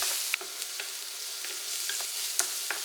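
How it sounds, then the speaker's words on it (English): Minced garlic, diced onion and sweet pepper sauté in a hot pan with a steady close sizzle, broken by a few soft scrapes and taps of stirring. "I'm going to saute that until it's fragrant and those aromatics develop their flavor"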